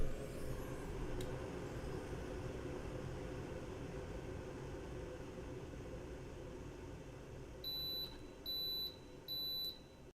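A water boiler beeps to signal the water is ready, giving three evenly spaced electronic beeps near the end over a steady background hum.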